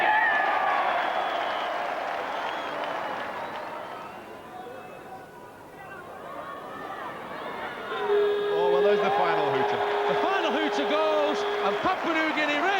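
A crowd of over 5,000 at a Humberside rugby league World Cup match cheers and applauds as Papua New Guinea score a late injury-time try, a broad, sustained roar of mixed voices that swells toward the end with some shouting.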